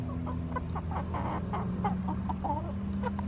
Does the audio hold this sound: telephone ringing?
no